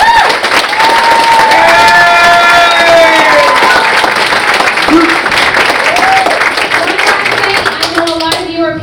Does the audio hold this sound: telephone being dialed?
no